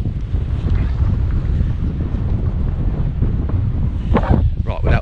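Wind buffets a GoPro camera microphone outdoors, a constant loud low rumble of gusty wind noise throughout, with brief voice sounds cutting through near the end.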